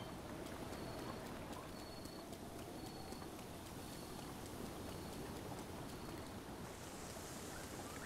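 Rain falling in Zelda: Breath of the Wild along Zora River, a faint steady wash of rainfall with a soft repeating game tone over it, no talking.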